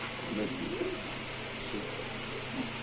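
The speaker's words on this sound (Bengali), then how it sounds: "এখানে কিছু কবুতর আছে ভাই" Pigeons kept for sale coo softly in low, rolling bursts at a market stall, close and gentle, with steady background noise and a voice speaking over them.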